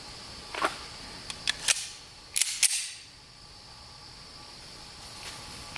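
A 9mm pistol fires fresh handloads of 5.2 grains of CFE Pistol powder over a chronograph outdoors, giving several sharp, fairly distant cracks in uneven succession over a faint, steady insect hum.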